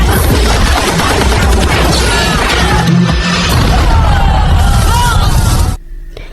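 Blind, sustained gunfire in an Indian action film scene, a dense continuous roar of shots and crashing impacts that stays loud for about six seconds, then cuts off abruptly into near silence.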